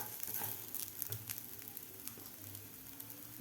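Rice sautéing in ghee in a pan for coconut rice gives a faint, steady sizzle with light crackles and soft patter, alone with no voices.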